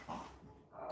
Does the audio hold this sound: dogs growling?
yes